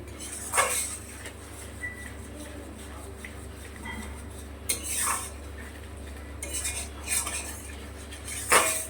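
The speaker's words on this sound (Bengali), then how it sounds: "বেশ কিছু সময় নাড়াচাড়া দেব।" A metal spoon stirs fish curry in a pan, producing scattered scraping clinks against the pan over a low steady kitchen hum, some strokes sharper and closer than others.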